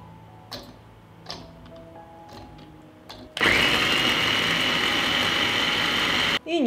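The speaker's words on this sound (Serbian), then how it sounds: "I usitnit ću je u secku." A few light clicks and knocks come first, then an electric food chopper mincing a hot chili pepper starts up loud and close, a steady high whirring buzz for about three seconds that cuts off briefly before restarting.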